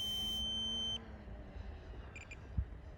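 A timer gives a steady electronic beep for about a second and then cuts off. Faint outdoor background noise and a couple of brief soft chirps follow at an RC airplane flying field.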